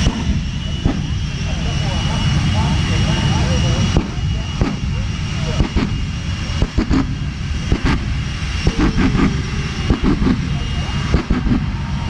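The Hot Streak jet-powered truck roars at high speed during a night air show run, loud and sustained, with sharp bursts and crackles cutting through the roar.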